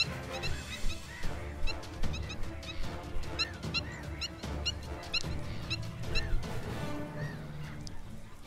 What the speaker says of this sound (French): L'approche d'un goéland déclenche l'alerte.